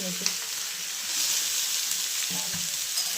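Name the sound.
onions frying in a pan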